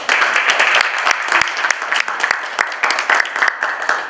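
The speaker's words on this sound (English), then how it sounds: "Round of applause for them." Applause rings out from an audience at a hospital holiday charity basket event, dense continuous clapping that holds steady and loud throughout, with a few voices faintly mixed in.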